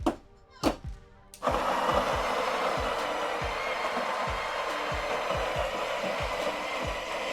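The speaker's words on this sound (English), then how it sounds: "we are going to grind 18 grams again" An espresso grinder grinds an 18-gram dose of coffee: a few brief mechanical clicks, then a loud, steady whirring motor hum close by that continues without a break, with beans crackling through it and no voices.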